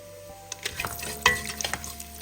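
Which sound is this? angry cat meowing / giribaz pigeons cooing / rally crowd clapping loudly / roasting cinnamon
roasting cinnamon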